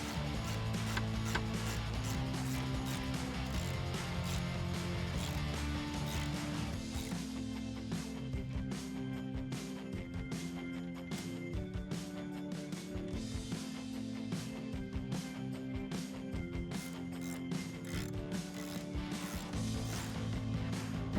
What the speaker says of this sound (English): Then go ahead and tighten it down with that 13mm socket.